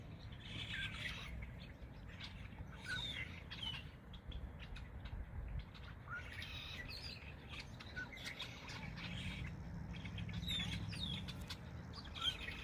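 Birds near Palmer Lake, Colorado chirping and squawking in scattered short calls, faint and fairly distant over a steady low background hum.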